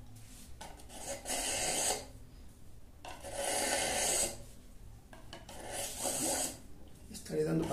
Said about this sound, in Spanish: el filete con la repasadera nuevamente, con esta herramienta que se llama repasadera.